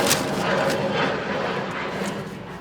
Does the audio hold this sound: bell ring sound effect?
no